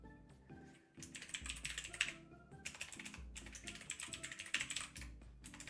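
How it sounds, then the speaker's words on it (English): Fast typing on a computer keyboard, a dense run of crisp rapid key clacks in bursts separated by short pauses, close and clear with no talking. "Oh, typing too fast."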